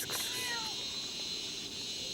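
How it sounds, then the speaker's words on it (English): A cat meows in an outdoor setting in Ubud, Bali, giving one drawn-out, rising-then-falling cry near the start against a constant high insect-like drone, with faint background voices. "This cat has been following Matteo."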